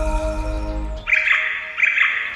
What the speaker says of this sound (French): c'était l'hirondelle qui passait